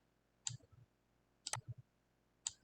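Three separate computer mouse clicks about a second apart, each a sharp close tick with faint follow-up taps, made while dragging design images into place on screen; quiet room with no talk.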